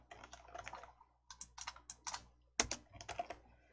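Bursts of computer keyboard typing with quick clustered key presses and short pauses, ending in a sharper cluster of strokes, close and fairly quiet with no talking.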